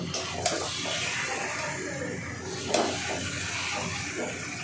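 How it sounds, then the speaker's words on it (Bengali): Mutton pieces stirred and fried with spices in a pan for a Bengali mutton kosha, giving a steady sizzle and hiss with occasional scraping clinks, close and continuous with no talk. "এবার ভালো করে মশলার সাথে মটনগুলো মিশিয়ে নিয়ে ভালো করে কষিয়ে নেব।"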